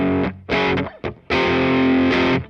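A heavily distorted electric guitar plays a big, dense rhythm part in loud chugging bursts separated by short gaps, with a long sustained chord filling the second half, up close and with no voice over it.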